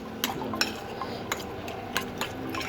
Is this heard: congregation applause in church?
no